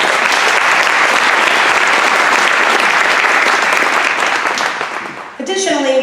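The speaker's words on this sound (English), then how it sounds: "A round of applause once again for all of our judges." Loud, sustained applause from a large crowd at an awards program fills the room, thinning toward the end as a voice begins speaking.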